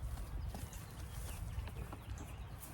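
Several horses on a farm clopping and shuffling close by as they approach, a dense stream of hoofbeats over a rumbling background with faint bird calls.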